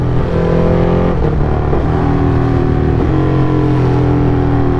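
A Ducati Hypermotard motorcycle engine drones loudly and steadily while riding through the city, with the pitch dipping and rising at gear changes and no talking.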